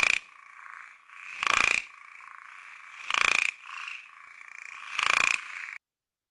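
Pulsed call of a small Indian grassland microhylid frog, close and clear: a sustained buzzing tone broken by three louder, rough bursts at roughly regular intervals, ending abruptly in silence.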